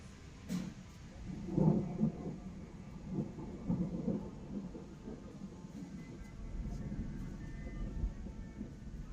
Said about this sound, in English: That's good thunder to end on right there.